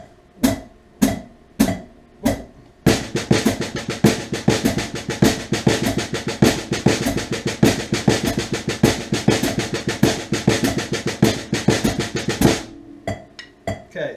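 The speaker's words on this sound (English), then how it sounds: "I'm going to have my quarter note going on the hi-hat." A drum kit plays a steady quarter-note hi-hat against an accented snare pattern. A few sparse hits lead into a dense, loud, driving groove that stops abruptly near the end, followed by scattered single strokes.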